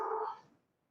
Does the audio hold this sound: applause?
no